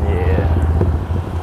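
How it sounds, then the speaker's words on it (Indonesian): A custom Jap-style Yamaha Scorpio motorcycle rumbles steadily on a test ride, its low engine drone loud and close throughout the short stretch, with a voice talking over it. "Gue lagi test ride motor yang pesanan dari Cilacap"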